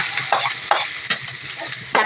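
Onion frying in hot oil with mustard seeds and garlic in a pan, a continuous close sizzle broken by a few stirring scrapes at a steady pace.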